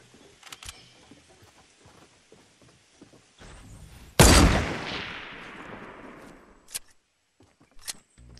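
A loud burst of gunfire in the battle royale game Fortnite, one sharp blast trailing into a long decaying rumble, with scattered fainter shots before and after.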